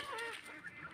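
Fowl on a small local chicken farm, heard as a brief, faint burst of honking, squawking calls with no talk.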